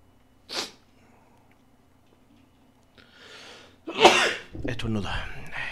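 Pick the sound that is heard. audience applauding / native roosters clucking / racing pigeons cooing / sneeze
sneeze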